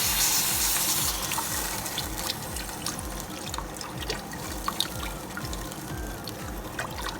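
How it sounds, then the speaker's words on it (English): Beef broth pours into a pot of browned meat, a steady, close glugging stream with regular pulses, fairly quiet and with no one speaking. "We're going to add our beef broth to this. Add it in there."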